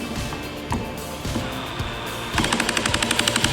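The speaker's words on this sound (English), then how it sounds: "What you can hear there is the clutch engaged" Steady drill whir driving a screw that suddenly switches to a rapid, evenly spaced ratcheting clatter as the clutch, set at 2, slips, close and fairly loud.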